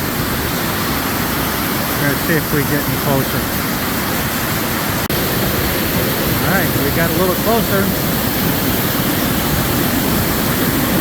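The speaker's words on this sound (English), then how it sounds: "Gotta love a good big waterfall." Big Virgin Creek Falls waterfall in Girdwood pours cold water in a steady, loud broadband rush that runs through the whole stretch, while people talk briefly over it.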